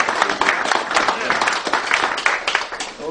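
Audience applause after a magnetic motor demonstration at a university event, a lively burst of clapping with individual claps audible and some voices mixed in.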